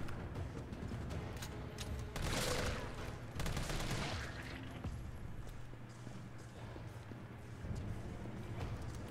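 Gunfire in the Resident Evil 3 Remake video game, heard as several scattered shots over a continuous low game-soundtrack bed, fairly quiet overall.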